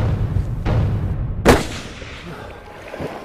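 A single loud rifle shot rings out at a bear on an Alaska hunt in Glacier Bay, a sharp crack with a brief rolling echo, set among quieter outdoor rustle and an earlier softer thump.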